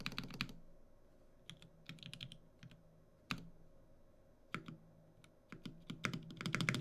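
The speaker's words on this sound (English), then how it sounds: "My spacebar is triggering a J key" Keys clack in short irregular bursts on a TYL Volcano 660 gasket-mount mechanical keyboard with a faulty spacebar, close and crisp with pauses between flurries.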